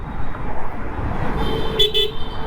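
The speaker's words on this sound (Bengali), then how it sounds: "ইফতারের পর প্রচুর জ্যাম রাস্তায়।" Congested road traffic at Moghbazar in Dhaka after iftar, with a steady rumble of engines and a car horn sounding briefly near the end, fairly close.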